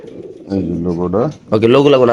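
Racer pigeons at a pigeon market give soft throaty coos in short rolling bursts close by, with a person talking over the birds.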